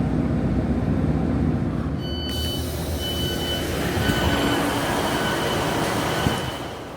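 A train pulls into Devonport station on the line to Plymouth. A heavy rolling rumble fills the scene, with thin high wheel squeals and brief tonal whines joining partway through before the sound eases off at the end.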